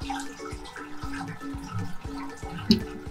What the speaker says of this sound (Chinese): 这时候我们就来先冲水